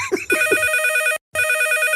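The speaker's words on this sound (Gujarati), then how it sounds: "ફોન આવ્યો કાકા" A telephone rings in two electronic bursts separated by a brief silence, loud and close, with a few short voice sounds at the start.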